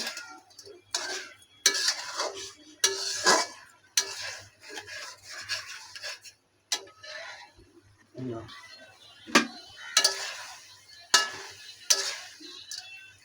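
Shrimp heads are stir-fried in masala in a pan: a spatula scrapes and knocks against the metal in irregular, close, fairly loud strokes, with soft sizzling between the strokes.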